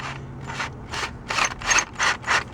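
A cobalt drill bit boring into a hardened steel bolt, heard as a run of about seven rhythmic grinding, rasping bursts, each roughly a quarter second long, close up over a low motor hum.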